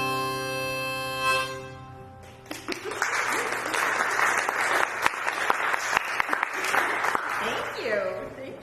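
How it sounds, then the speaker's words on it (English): Live studio audience applauding with loud, dense clapping that rises and holds steady for several seconds after a held musical chord fades out. "That was real. That wasn't a button of applause, just for you guys at home."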